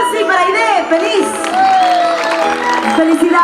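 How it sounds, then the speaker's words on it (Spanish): Applause and cheering for the bride and groom at a wedding in Peru, a steady loud crowd roar with clapping and whoops under music and voices. "todos, fuerte los aplausos para los esposos, para Percy, para Aide"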